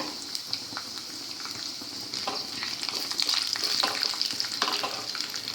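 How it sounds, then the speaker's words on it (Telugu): Tempering seeds crackle and spit in hot oil for a wood apple pounded chutney, with a steady close sizzle broken by irregular popping bursts that grow busier partway through. "తాలింపు గింజలు వేసేసాను చూడండి"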